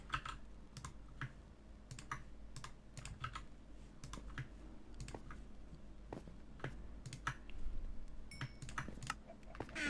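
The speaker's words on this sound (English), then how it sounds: "I wish I could bloody type fast on this" Typing on a computer keyboard, rapid irregular clicks and key taps in quick bursts, close and quiet, continuing steadily with no voices.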